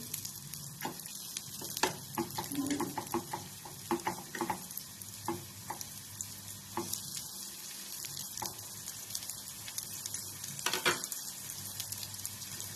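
Potato poha vadas fry in a pan over the gas flame, with a soft continuous sizzle broken by occasional clinks and scraping stirs, fairly quiet and close.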